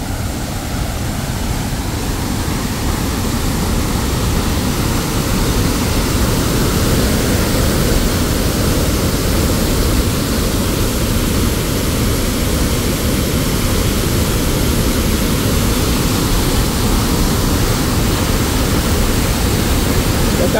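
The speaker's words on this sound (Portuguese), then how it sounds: "Cachoeira do Urubu, Esperantina no Piauí, pessoal." The Cachoeira do Urubu waterfall at Esperantina, Piauí, roars as a loud, steady, unbroken wash of noise, close by and heard alone.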